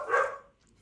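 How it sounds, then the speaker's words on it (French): Dogs bark once indoors, a single loud burst that fades quickly into near silence, with no talking. "Excusez les toutous qui ont dû voir quelque chose passer"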